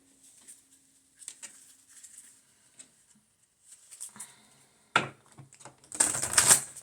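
Small oracle cards being shuffled by hand, soft intermittent papery riffles and taps separated by quiet gaps, building to a brisker burst of shuffling near the end.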